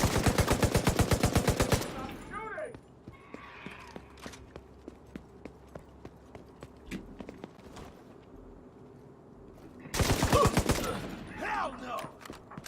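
Automatic gunfire in The Division 2, with two long rapid bursts at the start and end, and scattered single shots, footsteps and faint game noise in between.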